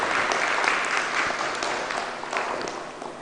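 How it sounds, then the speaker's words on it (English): A graduation ceremony audience gives the teachers a steady round of applause, dense and even throughout with no pause, heard from within the hall. "A round of applause for the teachers."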